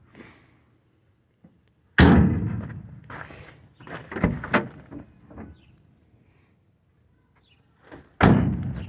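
Door of a 1966 Chevy Impala slammed shut, two loud heavy thuds with clatter and rattling handling noises between them, close by and with no talk.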